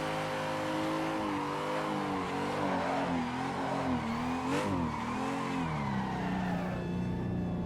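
Simulated BMW M3 drift car from Aussie Drift Co in Assetto Corsa, its engine howling steadily at high revs with wavering pitch as it holds a slide flat out, loud and continuous with faint tire noise and no talk.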